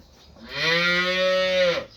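A hybrid dairy cow, one of a high-yielding milk breed on a farm, lets out a single loud, drawn-out moo lasting over a second, close by and alone with no talk.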